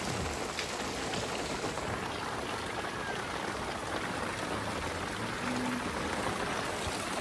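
Steady rain falls hard in a rural spot where buffaloes are kept, a dense unbroken hiss of drops across the whole stretch with no voices.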